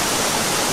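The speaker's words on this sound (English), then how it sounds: "There's a nice waterfall and stuff." A brief, steady rush of falling water from a waterfall along the Slieve Bloom Way hiking trail in Ireland, a constant broadband hiss with no talking.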